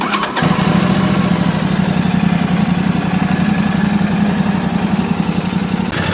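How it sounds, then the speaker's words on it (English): A Royal Enfield Classic 650 twin-cylinder motorcycle fires up and settles into a loud, steady idle with a muted exhaust and an even low throb, close by and alone. "Exhaust note is muted."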